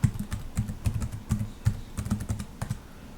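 Someone types a password on a computer keyboard while logging in to a Debian Linux machine: quick, uneven bursts of key taps, close and clear, lasting about three seconds with no talking.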